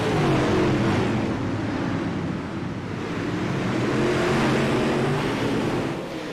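Dirt track race cars roar together at full throttle during a heat race at Cedar Lake, a dense, steady engine drone that swells and fades slightly as the pack passes.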